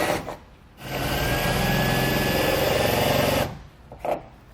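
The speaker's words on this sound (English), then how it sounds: "now we can go ahead and go underneath and drill those out too" A power drill bores out roof rack mounting points on a 2017 Jeep Wrangler Unlimited, running in one steady, continuous whine for a few seconds before stopping.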